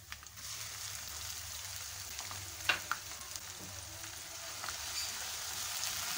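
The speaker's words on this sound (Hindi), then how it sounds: "तो अब मैं इसमें लहसुन अदरक का पेस्ट डालूंगी।" Garlic-ginger paste frying with golden onions for Lahori chana gives a soft, steady sizzle with a low hum, punctuated by a few sharp clinks and taps of stirring.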